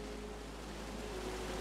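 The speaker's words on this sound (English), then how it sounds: "Waterfall down here." Steady, soft broadband rush of a waterfall in the forest wilderness of the game Firewatch, a constant distant roar with no voices.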